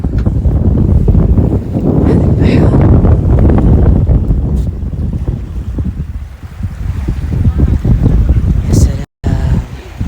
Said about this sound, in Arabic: صوت الأمواج.